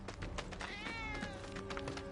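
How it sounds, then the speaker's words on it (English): A cat meows in a PlayStation 4 game, a drawn-out wavering cry that rises and falls over dense background game noise, fairly close and clear. "Ah, that was definitely a cat."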